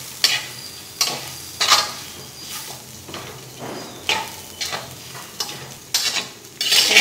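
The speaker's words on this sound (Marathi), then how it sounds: "आता हे छान मिक्स करून घेऊया।" Dried small shrimp chutney being stirred in a pan, a spoon scraping and clinking against the metal in repeated strokes over a soft sizzle, close and fairly loud with no voices.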